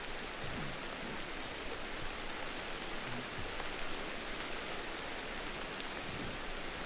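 Steady, dense rainfall in the video game Ancestors: The Humankind Odyssey, hissing evenly throughout, a constant wash of drops with no voices or other sounds breaking through.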